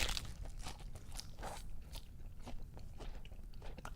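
Crunchy lettuce being chewed close to the ear, with a run of moist, irregular crisp crunches and bites at a quiet level and no voice over them.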